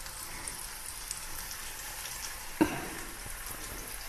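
Fish pieces, coated in semolina, frying in a small pan, three large pieces at once; a steady, soft crackling sizzle runs throughout with one brief sharper pop near the end, no voices.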